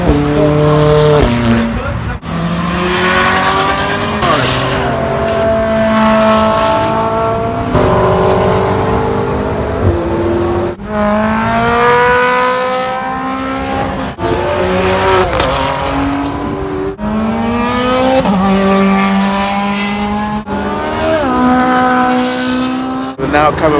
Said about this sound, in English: We're now coming past us by GTR, M3, Cayman GT4. Ferrari 360 Wonder. So they're all going past and they sound the business.